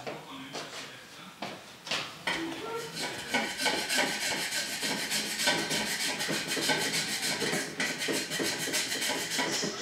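A hand saw rasps steadily back and forth through ABS plastic pipe, a continuous scratchy cutting sound with quick rhythmic strokes, close and fairly loud.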